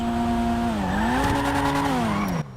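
Race car in a video game doing a launch start, its engine rising in pitch as it pulls away with tire squeal and skidding, loud and close with no talk, cutting off abruptly near the end.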